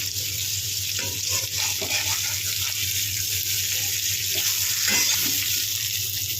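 Stuffed okra and chillies fry in oil on a flat chapati pan, giving a steady close hiss with occasional soft scrapes and spits.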